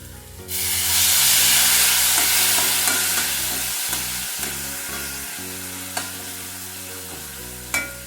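Vegetables fry with turmeric and salt in a pan while being stirred, a steady loud sizzle with scraping stir strokes and occasional clacks of the spoon, no voices.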